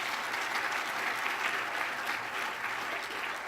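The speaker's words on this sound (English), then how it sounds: "Nice round of applause to their leaders." Audience applause at a county state-of-the-county address, a steady dense wash of many people clapping at even loudness throughout the short stretch.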